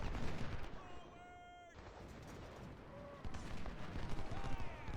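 Rumbling artillery fire from the 1st Maryland Light Artillery in Ultimate General: Civil War, dense booms and crackle forming a continuous loud battle din, with a brief quieter dip in the middle.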